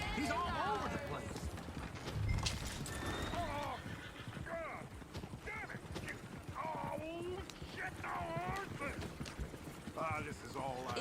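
Horse hooves clip-clop along with whinnying, heard beneath steady overlapping conversation throughout.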